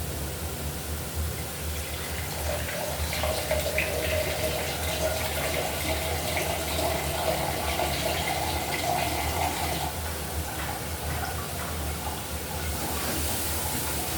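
Gravy liquid being poured into a Katla fish curry in a home kitchen, a steady wash of running liquid that holds evenly for the whole stretch.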